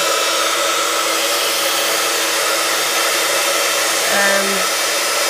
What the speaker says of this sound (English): So then with my heat gun, I'm quickly give it a blast.